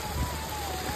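Heavy rain in Uttarakhand pours down in a dense, steady hiss of falling water, continuous and close throughout the short moment.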